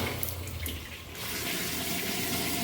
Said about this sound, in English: So when I flush it now